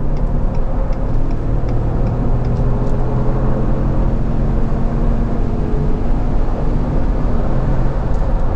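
A 2018 Ford Expedition Platinum with the 3.5L EcoBoost accelerating hard, heard from inside the cabin as a steady, loud low engine and road drone that holds constant with no voices.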